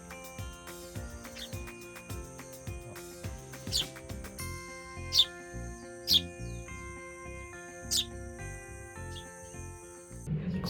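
Piyo, a rescued sparrow, gives several short, high chirps scattered through the clip over steady background music.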